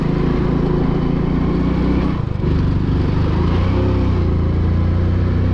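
A motorcycle engine idling and running steadily close by, a loud continuous rumble with a brief dip and blip near the middle before settling back to a steady idle.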